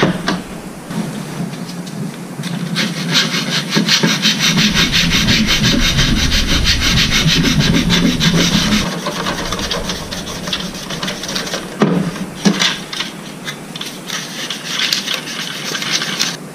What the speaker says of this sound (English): I'll start working by hand on sanding these edges